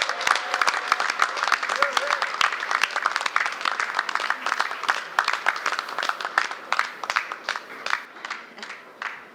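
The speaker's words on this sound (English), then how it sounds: "I want to give him a real cheer" Audience at the opening of the Marriott Hotel in Georgetown clapping and cheering for Winston Brassington, crisp individual claps densely packed at first and thinning toward the end, with some crowd voices mixed in.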